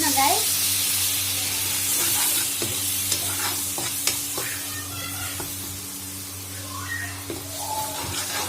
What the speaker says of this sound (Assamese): অকণমান পানী ছটিয়াইছোঁ যাতে মছলাখিনি জ্বলি নাযায়